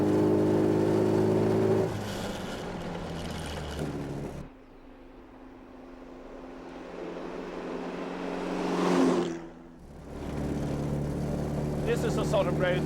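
A vintage Riley car engine drones and revs on an open country road as the driver double-declutches through gear changes, pitch dropping and swelling again between shifts, loud and close inside the car.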